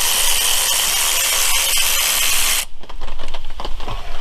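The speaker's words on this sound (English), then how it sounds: "now we're gonna pull these 10 mil bolts or nuts that hold the fuel rail down" Bolts holding the fuel rail down on a 3800 engine are worked with a tool: a dense, bright hiss-like rasp for over two seconds, then stops and gives way to quieter clicking and handling noises, close up.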